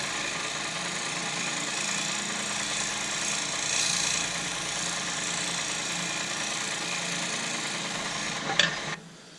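Beech wood spins on a lathe under a sharp gouge, giving a steady, loud whirring drone with a faint scraping texture throughout, ending in a brief knock as the lathe winds down.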